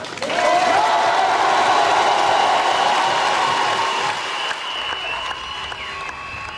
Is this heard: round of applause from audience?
yes